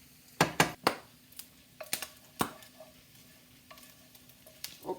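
Smoked pancetta frying in a pan, with a few sharp pops and crackles over a low sizzle and faint stirring clatter, fairly close, no talking.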